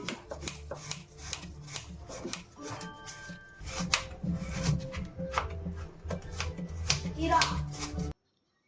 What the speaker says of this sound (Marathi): तोपर्यंत इकडे आपण बाजूला गूळ कट करून घेऊया.